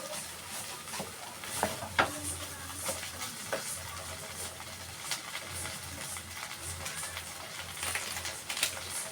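Cauliflower chop mixture fries in a pan with a soft, continuous sizzle while a utensil stirs and scrapes it in irregular clicks and taps, steady and close throughout.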